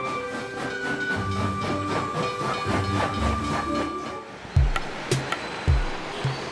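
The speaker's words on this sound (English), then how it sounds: "this train journey is definitely one for the books" A train in South India rumbles steadily along the rails with rhythmic clatter, then quiets as a few sharp knocks and hisses ring out nearby.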